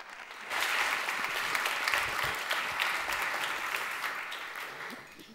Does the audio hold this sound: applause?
yes